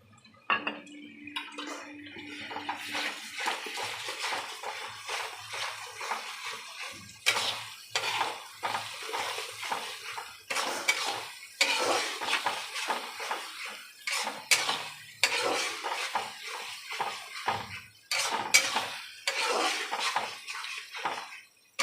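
Spices go into golden brown frying onions in a pan, with repeated metallic scraping and clinking of a spoon against the pan and soft sizzling throughout, close and steady with no talk.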